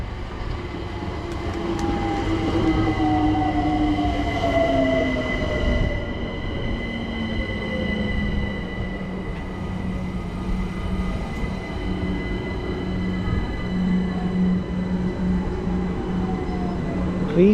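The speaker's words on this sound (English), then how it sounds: "coming in now we've got a 378 forming a service to Watford Junction" A London Overground Class 378 electric train pulls into a station to form a service to Watford Junction, its rising motor whine and squealing wheels steady and fairly loud across the whole stretch, with no talking over it.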